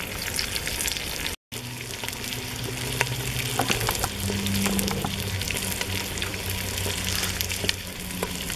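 Meat sears in a cast-iron potjie pot over heat, a loud, steady close-up sizzle and crackle with scattered pops and stirring scrapes, briefly cut by a short dropout, no talking.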